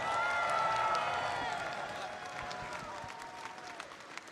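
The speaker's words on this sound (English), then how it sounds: "applause for all of our EVO 2026 winners?" An audience applauds tournament winners at the EVO 2026 fighting game event, a dense wash of clapping and crowd noise that is loudest at first and then fades, with a voice over it.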